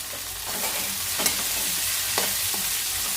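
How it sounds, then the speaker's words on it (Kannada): Vegetables and beans stir-frying in hot oil for fried rice, a steady close sizzle with occasional scraping stirs and spatula clinks, no voices. "ಬೀನ್ಸು ಎಲ್ಲನೂ ಸೇರಿಸ್ಕೊಂಡು ಎಣ್ಣೆಲಿ ಸುಮಾರು ಹೊತ್ತು ಫ್ರೈ ಮಾಡ್ಕೊಬೇಕು"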